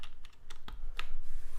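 Key presses on a RAMA U80-A mechanical keyboard, a handful of crisp clicks followed by a held down arrow key, close and clear with no talking.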